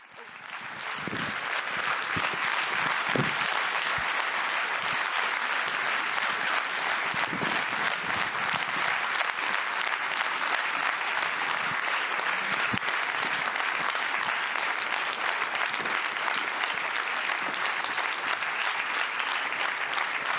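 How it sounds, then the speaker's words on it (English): Sustained, dense applause from a forum audience fills the whole stretch, steady and loud with many hands clapping at once and no break. "give them a round of applause"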